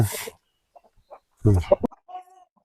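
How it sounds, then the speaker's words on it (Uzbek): A rooster clucks and calls in short bursts with brief quiet gaps between them, close to the microphone. "Mana xo'roz ko'ring."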